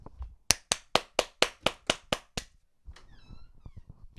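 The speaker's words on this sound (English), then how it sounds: "Let's give him a round of applause." A studio audience claps a guest in on a comedy podcast set: a run of about nine sharp, evenly spaced loud claps, then scattered lighter claps mixed with faint background noise.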